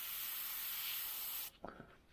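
An airbrush sprays paint onto paper, a steady close hiss for about a second and a half that cuts off abruptly, followed by a few faint handling sounds.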